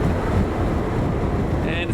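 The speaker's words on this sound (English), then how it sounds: "I'm now on the ferry to Haimaey Island" Steady, dense roar of stormy wind buffeting the microphone aboard a ferry on the rough Atlantic off Iceland, bound for Heimaey Island, constant and loud throughout with no break.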